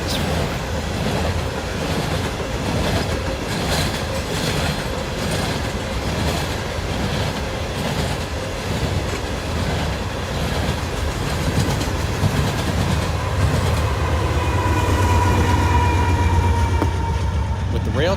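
A Norfolk Southern freight train rumbles past at close range with continuous wheel clatter and rolling noise over the full stretch, steady and loud, with a faint squeal of wheels toward the end.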